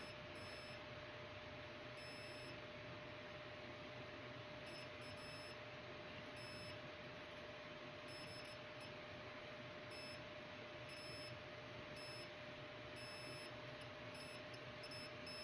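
Short high-pitched electronic beeps from a multimeter continuity test on a Nintendo Virtual Boy flex cable sound repeatedly at an irregular pace over a steady low hum.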